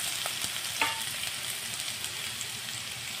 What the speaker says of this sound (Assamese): তেলখিনি গৰম হৈ গ'ল আৰু তেলত দি আছোঁ পিঁয়াজ জলকীয়া আলু